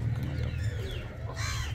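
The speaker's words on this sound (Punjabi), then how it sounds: "ਇਹ ਸਭ ਸਾਡਾ ਗੋਲਡਨ ਕਬੂਤਰ ਹੈ" Golden pigeons kept by a fancier coo softly nearby, with low repeated calls and a couple of brighter bird calls over a quiet hum and no speech.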